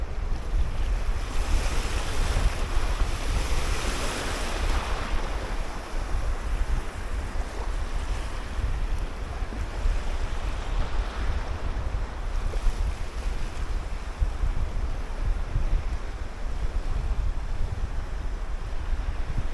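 Strong wind gusts buffet the microphone over the steady wash of waves and surf on the coast at Yumurtalık, a continuous outdoor roar with no voices.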